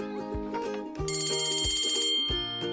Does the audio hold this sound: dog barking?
no